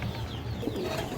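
Pigeons from a mixed collection of fancy and high-flying giribaz birds coo softly and continuously nearby in a short, low burble with no talking.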